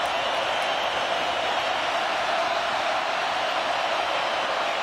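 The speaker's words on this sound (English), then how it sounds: "Home crowd roaring for a stop." Broad, steady roar of a home stadium crowd at a 2017 Virginia at Miami college football game, a dense wash of massed voices swelling evenly with no single voice standing out.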